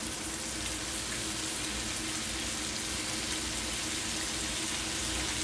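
Steady, even sizzling of raisins frying in a pan, a constant crackling hiss with no pauses and no voices.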